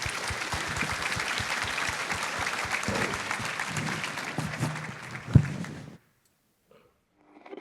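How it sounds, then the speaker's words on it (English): Chamber of commerce workforce panel audience applauds the panelists, steady crowd clapping with a few louder claps near the end before it cuts abruptly to near silence and faint sounds. "Let's give a round of applause to our panelists"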